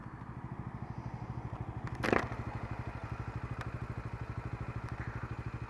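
A Kanuni Seha 125 motorcycle engine idles with a steady, even putter, then a brief clunk sounds as the start-stop system cuts in, yet a rhythmic pulsing continues to the end.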